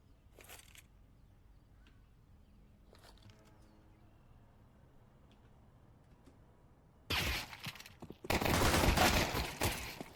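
Gunfire in Counter-Strike 2 during a competitive esports match, quiet clicks early, then loud, dense bursts of rifle shots near the end.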